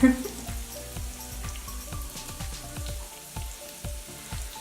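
Steady fizzing in bath water from a cocoa bath fizzer, with a stream of small crackling pops, close and fairly quiet, repeating irregularly throughout.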